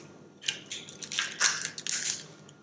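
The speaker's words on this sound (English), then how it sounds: "so we can just open this carefully, peel the shell off the back." Seafood shell being cracked and peeled off the back by hand, a close series of crisp crunching and snapping bursts over a couple of seconds.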